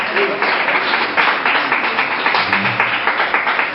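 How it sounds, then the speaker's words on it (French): A church congregation applauding at a ceremony: sustained dense clapping from many hands, fairly loud and close, with voices mixed in underneath. "On acclame encore le Seigneur pour la Kofi."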